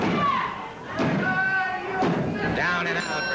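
A heavy body thud as a wrestler is dropped in a backbreaker during a 1984 Championship Wrestling from Florida match, with one or two dull impacts under continuous commentary and crowd noise.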